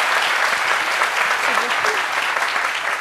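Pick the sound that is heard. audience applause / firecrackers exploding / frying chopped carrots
audience applause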